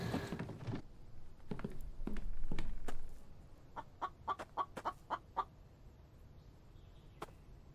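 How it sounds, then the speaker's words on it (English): Chicken in the survival video game The Infected clucking in a quick run of short, sharp clucks, close and clear, after some louder thuds and rustling at the start. "Got a chicken out there taunting me."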